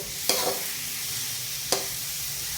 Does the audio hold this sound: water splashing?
no